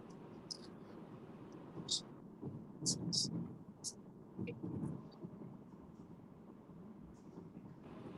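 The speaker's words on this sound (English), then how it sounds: "I just heard some big time thunder out my window" Low thunder rumbles outside a window, a few swelling rolls of moderate loudness under a steady background hum. Faint higher chirps and clicks sound in between.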